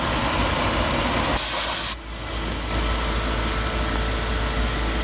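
Work van engine idling steadily after its misfires were fixed, a constant rumble under a broad hiss, with a brief brighter burst of noise just before the two-second mark.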